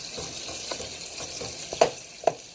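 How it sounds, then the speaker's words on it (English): Pieces of bacon fry in a pan for spaghetti carbonara with a soft, even sizzle, broken by light scraping strokes as they are pushed apart and two sharper clinks near the end. "I'm just going to break those pieces of bacon up so they'll cook apart."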